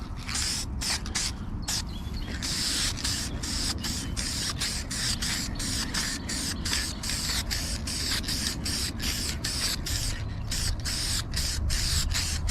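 Adhesion promoter sprayed from an aerosol can onto plastic interior trim of a turbocharged AWD Honda CRX, a steady close hiss in repeated bursts broken by short pauses, with no talking.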